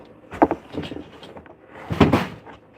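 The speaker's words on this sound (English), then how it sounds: "Whoops, I just knocked my iron over" A clothes iron knocked over on a sewing table, giving a couple of close, loud clattering thumps separated by a brief pause.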